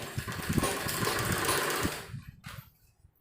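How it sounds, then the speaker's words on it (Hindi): Sewing machine stitching a sleeve, a rapid rhythmic mechanical whir running close for about two seconds, then slowing and stopping. "और इस तरह हम बाजू को घुमाते रहेंगे और सिलाई लगाएंगे इसके ऊपर"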